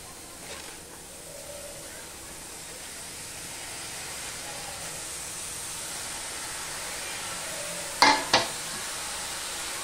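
Washed cabbage fries in a hot wok with a faint, steady sizzle, and a couple of sharp clanks from stirring come toward the end.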